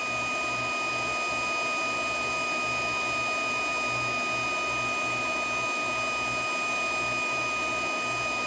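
A TaiShi 1000W 110V magnetic induction heater runs while heating a metal piece toward cherry red, giving a steady, even electrical hum and whine with high tonal lines, continuous and unbroken throughout.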